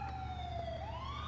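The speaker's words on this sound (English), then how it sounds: "Not sure what that ambulance is doing" An ambulance siren from the video game GTA IV with the LCPDFR mod wails in a smooth falling then rising sweep, heard at a moderate distance over a low engine rumble, with no speech.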